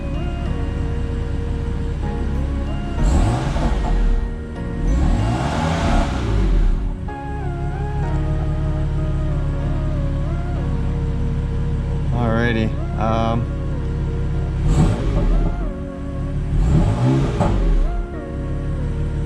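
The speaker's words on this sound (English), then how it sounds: "the exhaust sounds completely different" A BMW M4 exhaust, tuned with a JB4, idles with a low rumble and revs loudly in four separate bursts, with a person briefly speaking in between.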